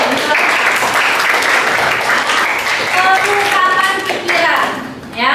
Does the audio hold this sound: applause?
yes